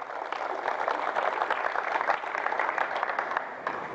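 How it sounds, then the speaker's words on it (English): Audience claps for basketball players at a coaching clinic, a steady, moderately loud patter of many hands lasting the whole four seconds. "round of applause for these guys here, please"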